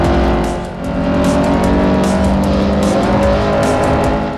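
A C Class hatchback racing car engine in the video game Forza Motorsport 4 drones loudly and steadily, with a high revving whine over a constant roar, no voices.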